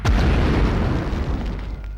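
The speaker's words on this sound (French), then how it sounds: "Grenade." A grenade explodes in the game Medal of Honor, a loud, heavy boom that fills the moment and then rumbles away into a fading low roar.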